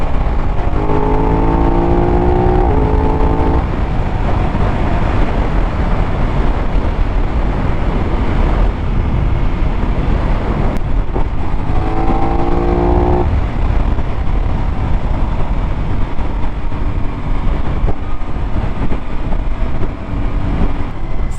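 A 2024 Aprilia RS660 Extrema motorcycle on a test ride, heard from the rider's position under steady wind roar, its engine revving up in two short climbing bursts with gear changes between longer cruising stretches.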